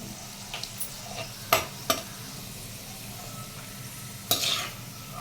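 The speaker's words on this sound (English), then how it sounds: "Just 2 seconds you can fry the kismis" Raisins (kismis) fry in a pan of hot oil with a steady low sizzle, while a spoon stirs and scrapes the pan with three sharp knocks near the start and end.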